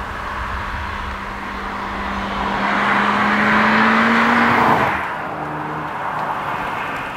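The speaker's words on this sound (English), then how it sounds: "Just tickle the accelerator and this car is ready to rocket towards the horizon." A Mk2 SEAT Leon Cupra R's engine revs up under hard acceleration, its rising drone swelling loud and close before easing off at a gear change, then pulling again.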